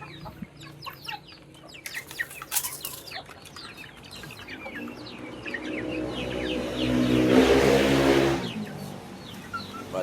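Chickens and roosters at feeding time cluck and chatter in a busy flock, with a burst of wing flapping and a louder rush of activity toward the end, no talk.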